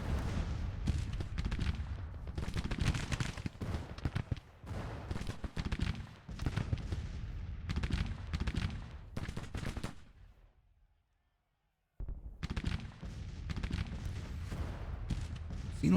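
Dense crackling musket fire from skirmishers in the Civil War strategy game Grand Tactician, heard as continuous loud volleys and rattling shots, cut by a brief silence before the firing resumes.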